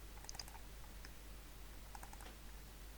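A password is typed on a computer keyboard in two short bursts of quick, faint key clicks separated by a pause, over a low steady electrical hum.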